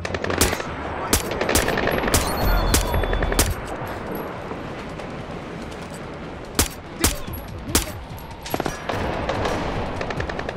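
Rapid gunfire bursts in the Splinter Cell video game, loud automatic volleys and single sharp shots layered over a busy game soundscape, clustered early then spaced out later.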